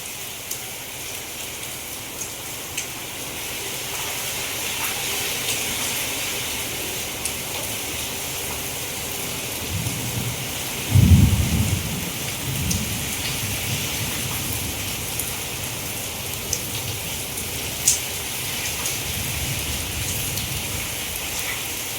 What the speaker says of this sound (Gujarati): બહુ વરસાદ આવ્યો છે પાણી તમે જોઈ શકો છો